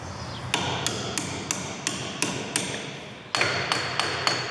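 A hammer strikes a punch to drive out a bolt during a Peugeot 308 front wheel bearing change: about eleven sharp metallic blows land in a steady rhythm close by, ringing briefly after each hit.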